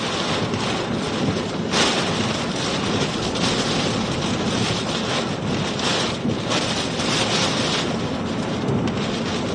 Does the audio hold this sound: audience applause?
no